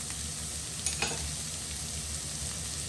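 Fresh turmeric, dry thyme and spices fry in a hot pan with a soft, steady sizzle and a couple of brief stirring clinks, quiet and close with no voices.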